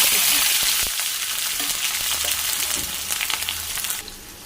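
Chopped onion hits hot oil already seasoned with cumin and dried red chilli for a cabbage dish, a loud steady sizzle and crackle throughout, with a few stirring clatters before it eases slightly near the end.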